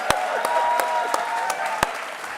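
Scattered audience applause in a talk-show courtroom setting, a few sharp distinct claps standing out over a steady soft bed of crowd clapping.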